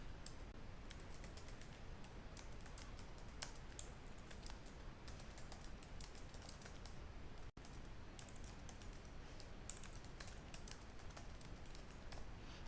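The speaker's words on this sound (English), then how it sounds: "So let me open Notepad, then I'll type this test." Rapid, steady keystrokes on a computer keyboard as a test line is typed into Notepad, quiet and close, with one brief pause midway and no talking.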